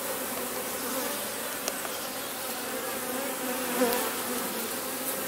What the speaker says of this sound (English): Just bring these bees into focus.